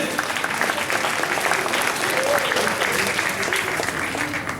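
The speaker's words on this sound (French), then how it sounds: "Applaudissements, s'il vous plaît" Crowd applause at a Wild West show in Cuges-les-Pins greeting the arrival of a new California governor, dense continuous clapping at steady volume with a faint murmur of voices mixed in.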